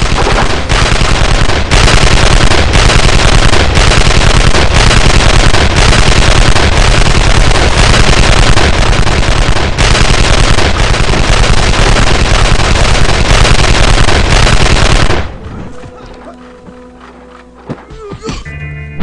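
Sustained gunfire at a strike target in the video game Evil Genius, a loud, dense rattle of rapid shots running continuously for about fifteen seconds before cutting off abruptly into quiet with a few faint clicks.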